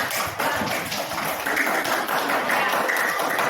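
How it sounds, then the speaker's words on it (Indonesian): Classroom clapping from a group of students, a dense patter of many hands sustained at fairly close range for the full stretch. "Tepuk tangan."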